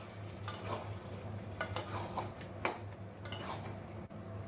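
Chicken and tomatoes are sautéed in a pan for a spicy Bengali chicken kosha, faint sizzling under intermittent scraping stirs and light clinks against the pan, with a low steady hum and no voices.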